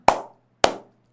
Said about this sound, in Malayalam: ഒന്ന് ക്ലാപ്പ് ചെയ്ത് എല്ലാവരും ഒറ്റടിക്ക്